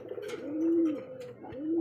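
Pigeons at a pigeon market give close, low, rounded coos, two swelling calls in a row with faint background noise and no talk.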